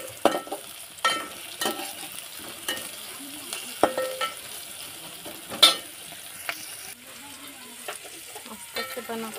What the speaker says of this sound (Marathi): तर इथे मी आलं लसूण टाकले, नंतर कांदा मिरची टाकून घेतले आणि परतून घेते त्याला.